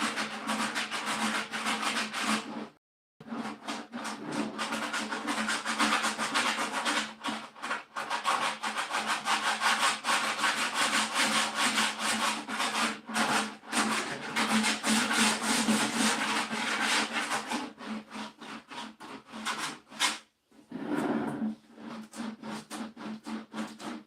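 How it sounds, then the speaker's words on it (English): A vintage wooden chair being sanded by hand with sandpaper, a loud steady rasping rub with rhythmic back-and-forth strokes and a couple of brief pauses, no voices. "We are going to clog up sandpaper a little bit, so be prepared to swap your sandpaper out"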